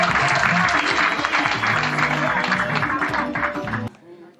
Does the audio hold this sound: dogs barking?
no